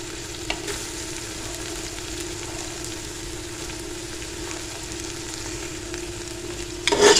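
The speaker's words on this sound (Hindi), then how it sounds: "अब हम इसको अच्छे से मसाले के साथ मिक्स कर लेंगे" Fried kachnar buds being mixed into cooked masala in a pan for kachnar gosht, an even low sizzle with faint stirring and one brief louder scrape near the end.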